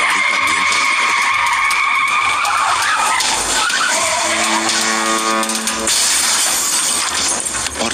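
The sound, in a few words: car skidding out of control, sound effect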